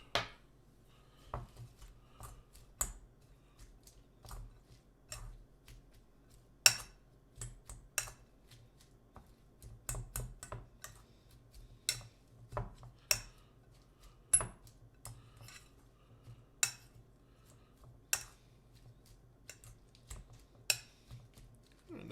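A utensil stirs seasoned slow cooker pork butt, sprinkled with salt and cracked black pepper, giving soft scattered clicks and taps against the crock in an irregular rhythm, quiet and close, with no talking.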